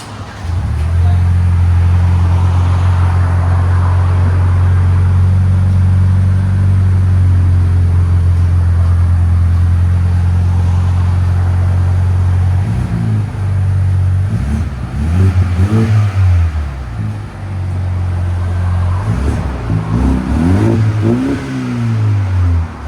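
A 2025 Ford Ranger 2.3L turbo engine drones at a deep, steady exhaust tone through Borla ProXS dual exhausts, then revs up and down in a few surges, loud and close, with voices faintly underneath.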